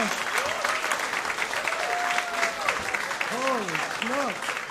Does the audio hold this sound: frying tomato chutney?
no